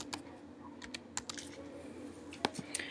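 A password being typed on a computer keyboard: a quick, irregular string of soft key clicks, close but quiet, with a few sharper taps near the end and no talking.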